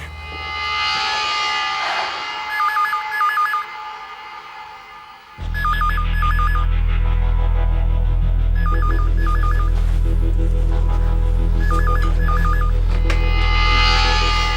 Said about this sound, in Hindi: अब फोन करता हूँ मैं।